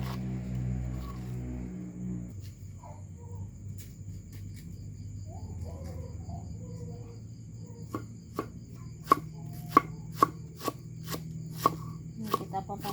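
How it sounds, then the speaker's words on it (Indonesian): A knife chopping cabbage on a board for a Sundanese dish, a run of sharp, evenly spaced cuts in the latter half, with someone talking beforehand and insects chirping faintly throughout. "Ini kita potong-potong seperti ini ya, kayak buat bikin bakwan."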